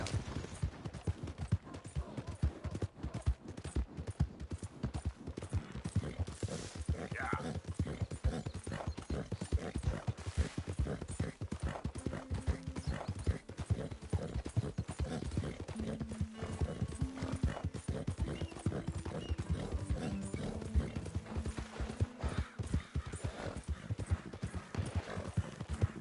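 Horse hooves clip-clop at a steady gallop in Red Dead Redemption 2, loud and continuous throughout, with an occasional whinny and brief distant gunfire mixed in.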